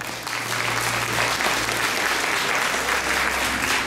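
Loud, dense applause from an audience at a regional beauty pageant candidate presentation, a steady wash of clapping with a low hum underneath.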